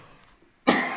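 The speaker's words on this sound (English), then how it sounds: "I start coughing." A single sharp, close cough bursts out near the end after a quiet stretch, during model railway track cleaning and soldering work at a bench.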